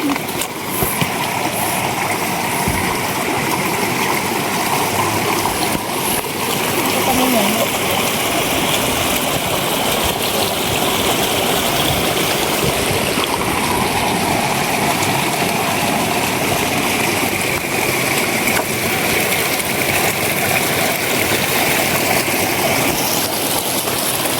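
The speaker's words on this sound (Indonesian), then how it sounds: "Kita melewati sungai. Lumayan deras." Swift river flowing beside a mountain hiking trail on Gunung Andong, a loud continuous rushing wash heard close by throughout, with faint talk partly mixed in.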